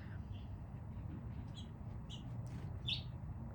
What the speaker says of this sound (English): Bird just came flying like 10 feet in front of me.